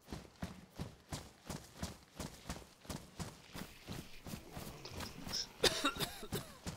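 A character in the video game DayZ coughing repeatedly, a steady rhythmic run of roughly a dozen short harsh coughs, close and fairly loud, with faint clattering noises near the end.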